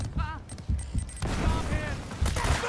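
A grenade blast and rattling gunfire from Uncharted: Drake's Fortune rumble in a dense, continuous burst of combat noise, with voices audible over the action.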